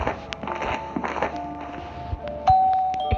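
A doorbell rings once with a clear ding-dong partway through, heard among soft thumps and footstep-like knocks indoors.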